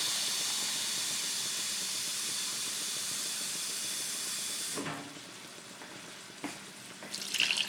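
Water pours into a pot of jasmine rice with a loud, continuous rushing hiss for several seconds, then stops, leaving a few faint clinks and knocks.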